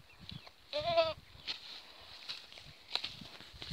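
Goats on a small goat farm bleat, one clear close bleat followed by fainter bleats and shuffling hoof sounds in the pen.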